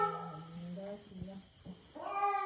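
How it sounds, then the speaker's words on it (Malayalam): A cat meows close by just after being pulled from a well, in a few drawn-out, wavering cries broken by short pauses. "ആ പൂച്ചക്ക് മര്യാദക്ക് ആ കൊട്ടയിൽ കയറിയ പോലെ"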